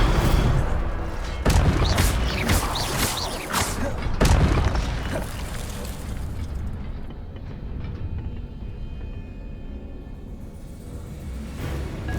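Incendio fire spell cast in the video game Hogwarts Legacy: a cluster of loud booming blasts and thuds with crackling fire, fading into a lower rumbling roar, mixed with game sounds.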